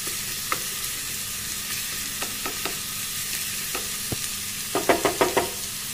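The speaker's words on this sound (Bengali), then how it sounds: "আবার এটা ভালোভাবে মিশিয়ে ভালো করে এবার সাঁতলে নেব।" Chopped tomato, coriander powder and turmeric sauté in oil for kochu ghonto, a soft steady sizzle broken by scattered spoon scrapes and a quick cluster of stirring clinks near the end.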